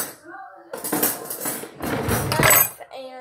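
A knife and plate being taken out while preparing toast, with several rattling clinks of cutlery and dishware, close and fairly loud.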